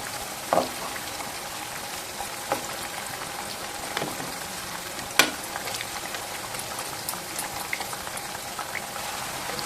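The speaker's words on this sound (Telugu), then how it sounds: "లైట్గా వేసేటప్పుడు ఒకసారి అయితే ఇలా ఫ్రై చేసుకోండి అన్నీ కూడా" Banana chips fry in hot oil with a steady close bubbling sizzle and a few scattered pops and crackles over about ten seconds; no one speaks.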